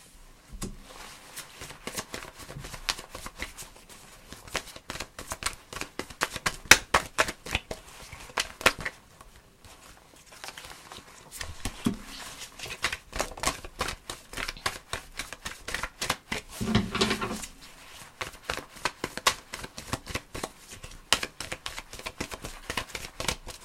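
A deck of tarot cards is shuffled up close in repeated crisp riffling bursts, with short pauses between passes and no talking.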